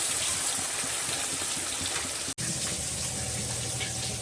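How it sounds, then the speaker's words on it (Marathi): Water poured from a vessel into egg biryani gravy in a pan, a steady close trickling gush with a brief cut midway, no voices. "आता थोडं पाणी पण टाकते मी."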